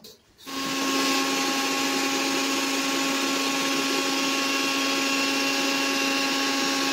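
A mixer grinder grinds dry coconut, garlic and ginger without water: a loud, steady motor whine with a high buzzing hum starts abruptly after a brief quiet moment and runs continuously.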